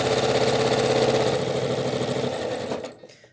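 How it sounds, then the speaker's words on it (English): A Janome Skyline sewing machine fitted with an Accufeed foot stitches at speed, a fast, steady mechanical whir that holds for nearly three seconds and then stops, leaving a short fading tail. "I'm actually going to sew at speed."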